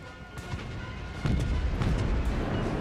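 Naval ship gunfire in a warship video game: a deep, rumbling boom of a heavy gun salvo rises midway and lingers as a loud low roar, with no talking.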